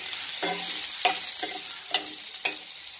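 Okra tossed with amchur in a frying pan: a soft background sizzle broken by four or five distinct scraping stirs, evenly spaced about half a second apart, close and fairly quiet, with no voices.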